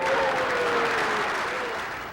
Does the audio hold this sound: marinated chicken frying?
no